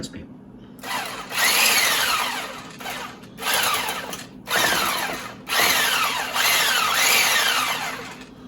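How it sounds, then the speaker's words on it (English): A motorized immersion blender whirs in repeated bursts, each a couple of seconds long, with short pauses between; close and fairly loud. "Would it help to run the immersion blender in it"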